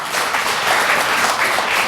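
Audience applause at a Nigeria Independence Day celebration, a steady dense wash of many hands clapping throughout, loud and close, with no voices over it.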